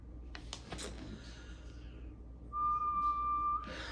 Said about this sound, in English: Sorry, I didn't mean to whistle.